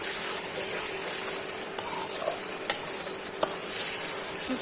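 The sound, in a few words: spice masala being sautéed with garlic cloves in a pan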